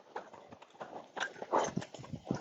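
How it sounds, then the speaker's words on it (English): A saddled Tennessee Walking Horse canters on the ground, its hooves making irregular, muffled clip-clop thuds in quick groups, fairly close, with no speech. "And that's more like a canter."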